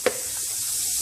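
Chicken pieces fry in hot grease with a steady, dense hiss and crackle throughout, and a brief soft knock comes right at the start.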